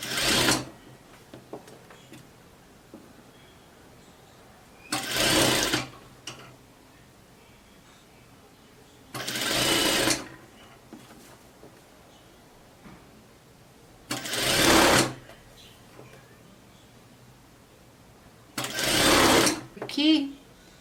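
A sewing machine stitches a 1-centimetre hem for elastic on a double-sleeve gypsy blouse, running in five short loud bursts separated by quiet pauses.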